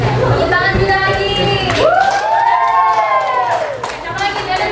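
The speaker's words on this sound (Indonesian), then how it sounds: "Tepuk tangan juga lagi." Children in a classroom cheer with rising, drawn-out shouts and some clapping, a loud, close burst of excited voices.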